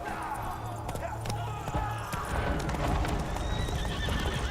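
A video game horse gallops past with rapid hoofbeats and a loud whinny up close, over busy game background noise.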